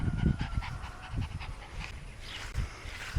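A dog pants rapidly and audibly nearby, a quick rhythmic series of breathy huffs at moderate volume, continuing throughout without talk.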